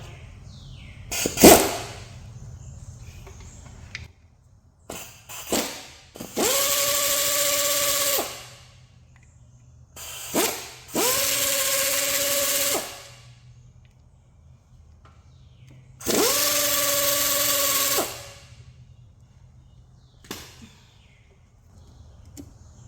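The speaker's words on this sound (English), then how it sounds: "We'll try out this Harbor Freight air impact that I bought." A Harbor Freight air impact wrench removes bolts during engine removal on a 2008 Saturn Aura 3.5L. Three loud, sustained buzzing hammer bursts of a few seconds each stand apart, with short air blips and quiet gaps between them.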